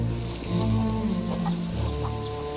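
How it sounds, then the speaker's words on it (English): A short stretch of chicken clucking in the video game Sea of Thieves over a steady droning hum, a few soft clucks close together. "Chickens, chickens, chickens."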